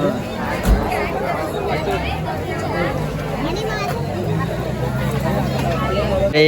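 Busy murmur of a crowd at a village jatra among stalls, continuous babble and chatter with closer voices over it, plus a brief low thump early on.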